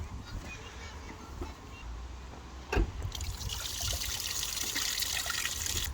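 Water trickles and then pours steadily into a basin while wash water is changed during hand-washing of clothes, with a brief splash midway before the flow grows louder and continues to the end.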